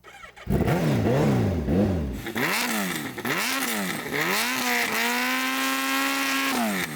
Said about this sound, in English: Rex, can you rev up your bike?